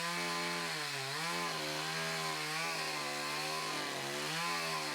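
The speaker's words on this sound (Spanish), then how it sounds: "Los chilotes han adoptado masivamente la motosierra." Chainsaw cutting wood at a traditional house-moving minga in Chiloé, a steady loud engine drone rising and falling in pitch as the blade bites and revs, continuous throughout with no talk.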